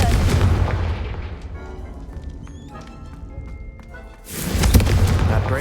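Confringo fire spell from Hogwarts Legacy going off: a heavy booming blast opening the clip, fading into a quieter rumbling tail with small chimes, then a second loud surge of burst noise near the end.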